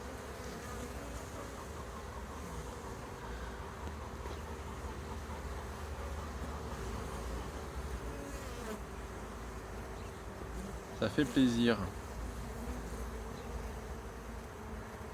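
Buckfast-type honeybees crossed with black bees, along with drones, buzzing at a hive entrance on a February day: a continuous close insect drone with a brief louder buzz passing near, and a voice speaks briefly in French.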